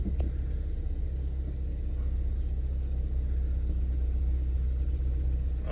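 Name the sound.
Ford Escape driving in reverse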